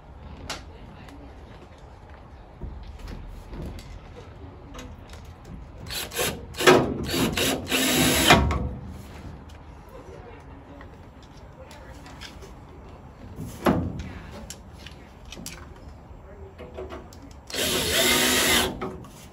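A power drill whirs in short, loud bursts as small screws are driven into a fabricated glove box for a 1936 Chevy coupe, with quiet handling noises between bursts and a person talking throughout.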